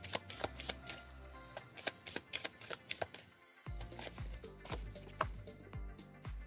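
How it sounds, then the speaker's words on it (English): Playing cards from the Veilwraith board game are shuffled close up on a table in repeated crisp riffles and quick slaps, one bridging flurry then another, quiet and without speech. "we shuffle this card into our deck"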